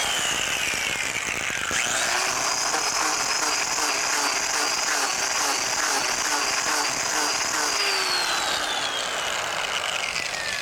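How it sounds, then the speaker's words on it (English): A power grinder works steadily on a boat transom, removing bottom paint during a rotten-transom repair, giving a loud, continuous whining buzz with shifting pitch that holds unbroken throughout without talk. "we're going to grind that bottom paint off"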